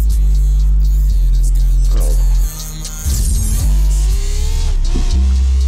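A car's engine in a video game hums loudly and steadily, dipping briefly before revving back up, with a voice speaking over the drone.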